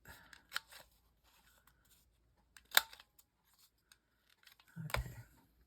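Scissors snipping through fabric scraps, a few sharp close cuts separated by quiet pauses, with a brief rustle of handling near the end.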